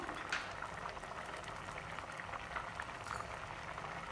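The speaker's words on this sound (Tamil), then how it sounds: "பருப்பு கறி வந்து கொதிக்கட்டும்" Onam-style Kerala lentil curry (paruppu curry) boils in a pot, a steady, soft bubbling and popping that continues without pause.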